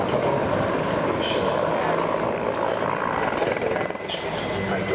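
A Hungarian Air Force Mil Mi-24 helicopter in flight, a continuous broad engine and rotor roar heard from a moderate distance, steady with slight swells, under a faint background voice.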